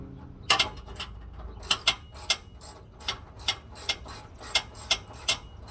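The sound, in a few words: ratchet wrench unbolting a truck frame bracket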